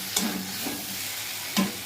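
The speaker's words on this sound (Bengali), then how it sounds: "একটু ভালো করে নাড়িয়ে নিই।" Vegetables for a Bengali pui shaak and jackfruit-prawn dish stirred in a frying pan, a quiet steady sizzle with two short scraping strokes of the spatula, close and alone.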